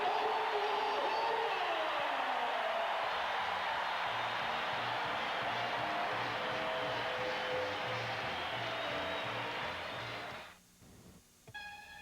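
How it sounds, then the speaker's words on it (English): A basketball arena crowd at Iowa State's Hilton Coliseum during a 1987 timeout against #12 Oklahoma keeps up a steady, loud roar with cheering and whoops, then drops off sharply near the end. "Let's listen to the crowd."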